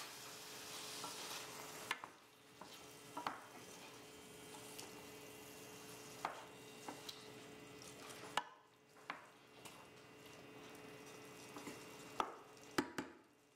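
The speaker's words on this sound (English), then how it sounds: "Stir the Kalamata olives to combine." Spaghetti being stirred with Kalamata olives and chickpeas, a quiet, faint stretch of soft scraping and stirring with occasional sharp utensil clicks and taps scattered through, no voices.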